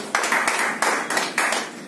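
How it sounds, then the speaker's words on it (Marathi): An audience applauds a woman with a steady run of claps in quick, even pulses, with no voices over it. "टाळ्या वाजवा एकदा ताईंसाठी"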